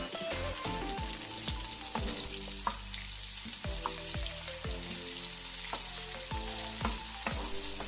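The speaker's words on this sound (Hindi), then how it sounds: "अब थोड़ा सा इसको फ्राई करूँगी प्याज को। अब मैं इसमें एक टमाटर शामिल कर दूँगी।" Onion and tomato fry in a pan with a steady, dense sizzle, while a spoon stirs the pan with repeated sharp metallic scrapes and taps throughout.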